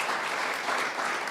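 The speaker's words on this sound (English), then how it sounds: "why don't we give a big round of applause for Stewart and Tristan for sharing their expertise with us." Audience applause at a sustainability talk, a dense steady wash of clapping from many hands at even loudness throughout, with no voices over it.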